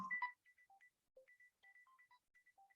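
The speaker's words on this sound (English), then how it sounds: "Sorry, that's my phone going on." A mobile phone ringtone plays a quiet, clean sequence of short electronic beeps in a tuneful pattern, with a brief burst of other noise at the very start.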